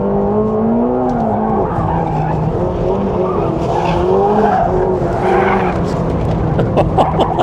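A McLaren 750S sports car with a large rear spoiler braking hard on a race track, engine note dropping through steady harmonic tones, with some tire noise, loud and continuous throughout.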